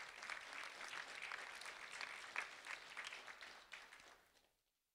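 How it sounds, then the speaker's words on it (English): Audience applause for a first-grade student honored at a Do The Right Thing awards ceremony, a dense, steady clapping from a room of people that fades out into silence. "a round of applause for Braxten Garcia"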